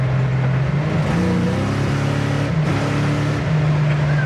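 A 1970 Ford Mustang Mach 1 engine revs hard under acceleration with a low, steady droning tone that climbs in pitch, briefly drops, then surges again, loud and close throughout.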